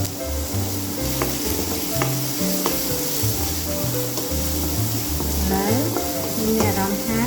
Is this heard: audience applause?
no